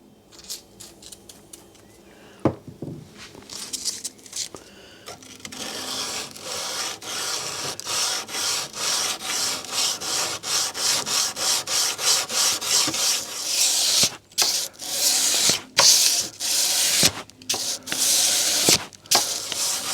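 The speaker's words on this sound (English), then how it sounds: "I'm just going to hand sand using 320, 400 and then 600" Steady back-and-forth rasp of a steel bushcraft knife blade being hand sanded with 320 to 600 grit paper on a Corian block, loud and close, building into a continuous rhythmic scrubbing with short pauses near the end.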